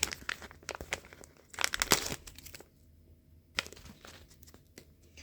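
A plastic package of laundry whitening powder is torn and opened, giving close crinkling and tearing rustles in bursts with a quieter gap in the middle, no voices.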